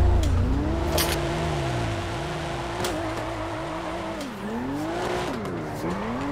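A BMW M4 with hydraulics drifts in GTA, played on a racing wheel, its engine revving and rising and falling in pitch with sustained tire squeal as it slides sideways, loud and continuous with sharp bursts.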